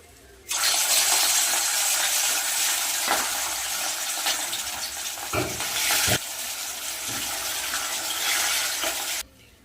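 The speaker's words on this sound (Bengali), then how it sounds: "তেলটা গরম হয়ে গেছে এবার মাছটা আমি ভেজে নেব" Loud, steady sizzling and crackling of catla fish frying in hot oil in a kadai, starting abruptly and continuing close by before cutting off.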